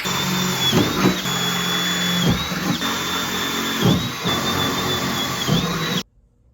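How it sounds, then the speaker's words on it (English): A power drill whines steadily at close range, drilling bolt holes to mount a relocated Antigravity battery in a BMW E36, its pitch dipping in four repeated bursts as it bites, then cuts off abruptly. "So time to drill, add these, and should be able to bolt this baby up"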